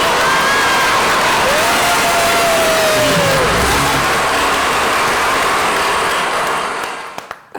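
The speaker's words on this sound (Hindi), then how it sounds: "तालियां।" Studio audience at a late-night talk show bursts into dense, sustained applause that holds steadily for several seconds, then thins and fades out at the end.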